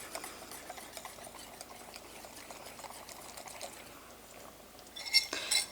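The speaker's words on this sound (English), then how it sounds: "I'm going to mix that up well" Spoon stirring flour into a pot of clam chowder, a soft steady scraping and liquid churning close by, fairly quiet and continuous, ending with a couple of louder clinks of utensil against the pot.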